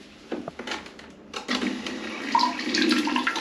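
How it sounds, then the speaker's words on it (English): A handheld bidet sprayer in a bathroom in Indonesia sends a spray of water after a few clicks and handling noises. The steady rushing hiss starts abruptly, builds and stays fairly loud and close. "This is the bum gun,"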